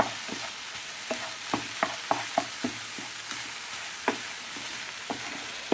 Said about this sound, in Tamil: முட்டை தக்காளி வெங்காயம் கருவேப்பிலையோட நல்லா ஈவனாக மிக்ஸ் ஆகணும்.